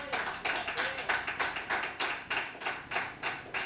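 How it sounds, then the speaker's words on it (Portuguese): A church congregation claps along in a steady rhythm, about three claps a second, while a preacher's voice carries faintly over the applause. "Aplauda o Senhor Jesus."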